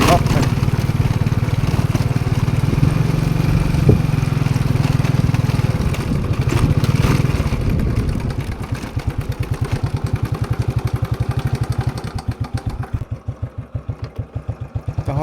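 A motorcycle runs along a rural village road in Laos, its engine droning loudly before settling into a steady, chugging putter of rapid rhythmic pulses, with wind rushing past and no talk heard.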